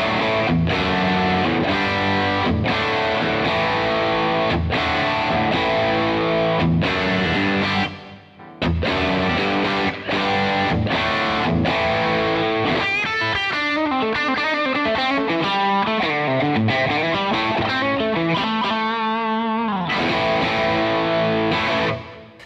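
A Les Paul electric guitar played through a ThorpyFX Peacekeeper overdrive pedal with its knobs near one o'clock, giving loud, driven chords and riffs with a short pause, then a run of quicker picked notes.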